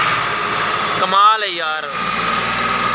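A Millat 260 tractor with a key-start pump runs nearby, its engine a steady, even mechanical drone that continues under a man's brief spoken exclamation.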